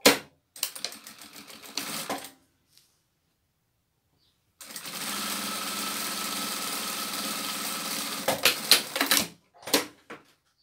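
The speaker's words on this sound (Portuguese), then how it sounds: "Pode costurar. Retrocesso no começo e no final." A sewing machine stitches fabric scraps for a rug in short bursts: a brief run, a long pause, then a sustained steady whir of several seconds ending in a few quick stops and starts, close and alone.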